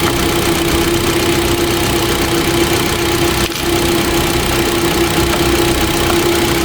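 During a battery replacement, a car engine idles with a constant loud rumble and a steady mechanical hum. It carries on unchanged throughout, with a brief dip midway.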